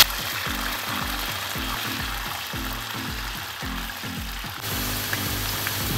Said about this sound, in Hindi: अब उसी ऑयल के अंदर अब जो हमारे पास आलू थे ये भी हमने एक अदद बड़े साइज का लिया था, ये हम इसमें ऐड कर देंगे।